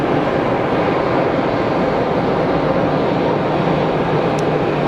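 An EasyJet Switzerland airliner at Geneva Airport gives off a steady, broad jet roar that holds at an even loudness throughout, with no voices.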